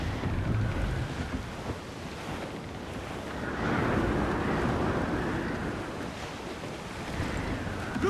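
Stormy gale winds and rolling ocean waves in the Assassin's Creed Black Flag video game, a continuous rushing roar of wind and surf with swelling and easing gusts, steady and without talk.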